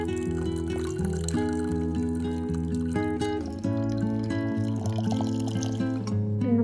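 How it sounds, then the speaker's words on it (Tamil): Water poured from a tumbler to rinse freshly made homemade paneer, a soft splashing and trickling heard beneath steady background music. "இந்த லெமன் ஃப்ளேவர் போகிறதுக்காக ஒரு டம்ளர் தண்ணி ஊற்றி நல்லா அலும்பிக்கோங்க இந்த பன்னீரை"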